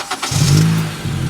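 A car engine catches after an oil change and settles into a steady, loud running hum close by, with a brief rev at the start and no talk.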